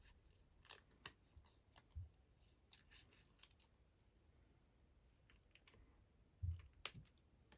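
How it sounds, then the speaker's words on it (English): Scissors snipping paper butterflies out of patterned craft paper: a handful of soft, sparse cuts and clicks spread irregularly across a quiet room, close and faint, with no talking. "Just cutting out my cute little butterflies."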